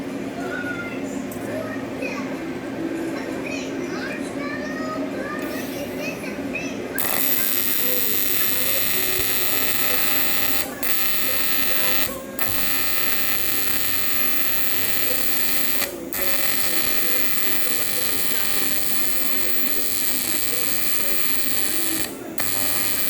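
Arc welder running at 195 amps on a cheap jetski trailer, a steady loud buzzing crackle that holds for about sixteen seconds with a few brief breaks, after a stretch of quieter shop noise.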